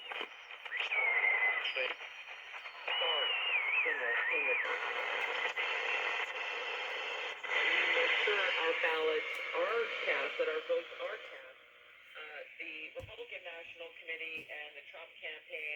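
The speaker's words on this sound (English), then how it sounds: "You can definitely hear the station tuned in" Vintage Radio Shack radio tuned to a station, playing steady broadcast audio with voices and tonal content at moderate loudness for the whole stretch, softening slightly near the end.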